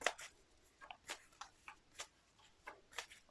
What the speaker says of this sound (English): We go 2 more shuffles.